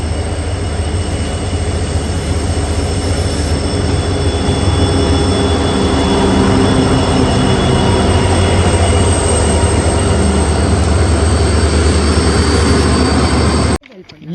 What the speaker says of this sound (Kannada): ಈ ಟ್ರ್ಯಾಕಿಂದ ಟ್ರೈನ್ ಬರುತ್ತೆ, ಇಲ್ಲ ಬ್ಯಾಕ್ ಸೈಡಿಂದನೂ ಟ್ರೈನ್ ಬರುತ್ತೆ ನೋಡಿ